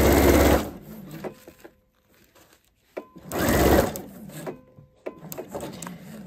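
A sewing machine stitches fabric for a Christmas calendar in two short fast runs of rapid mechanical whirring, separated by quiet clicks and fabric handling, close up with no talk.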